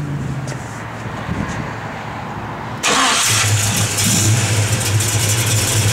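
A 1966 Chevrolet Nova wagon engine idles steadily nearby, then fires up louder about halfway through into a strong, rumbling run with a deep, even low-end drone.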